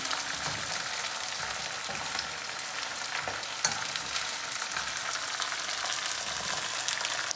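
Curry leaves and chicken fry in a pan, a loud continuous close sizzle with occasional crackles and stirring scrapes, no talk.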